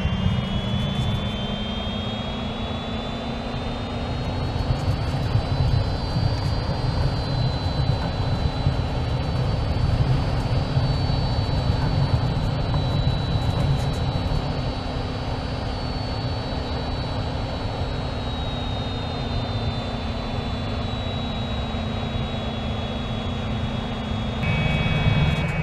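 A Fouga Magister CM.170 jet taxiing in Microsoft Flight Simulator 2020 gives a steady, loud turbine roar with a high whine held constant, swelling slightly midway, without voices.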